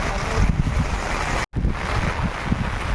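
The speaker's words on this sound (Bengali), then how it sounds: "দেখুন একটা হালকা ঝোড়ো হাওয়া হচ্ছে গাছের ডালপালাগুলো কেমন নড়ছে দেখুন সঙ্গে বৃষ্টি" Gusty wind from a light storm with rain roars and buffets the microphone with a rough, steady rush, cut by one brief dropout partway through.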